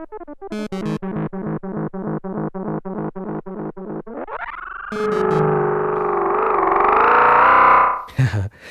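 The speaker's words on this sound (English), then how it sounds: "you can think it sounds like a terrible delay, but it's about when you get the blend right, it's very evocative, this kind of delay" A Neutron synthesizer played through a bucket brigade delay: a rapid train of short repeated notes gives way to a rising swell and a sustained, wavering, distorted lo-fi tone with murky echoes, loud and alone.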